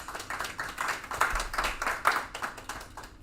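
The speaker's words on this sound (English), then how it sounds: "let's give him a round of applause" A school board meeting audience applauds an eighth-grade student with moderate, steady clapping, somewhat distant and without voices.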